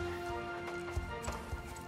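Horse hooves clip-clop in the Star Stable video game, a few soft, irregular thumps over steady game music and ambience, no voices.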